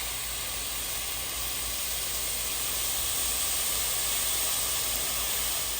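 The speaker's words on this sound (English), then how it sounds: "Okay, grill is nice and hot, and on goes the chip steak." Chip steak sizzling on a hot grill, a steady, dense hiss that holds evenly throughout with no voices.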